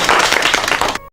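A burst of many hands clapping fast and close, a continuous patter of claps cut off abruptly at the end.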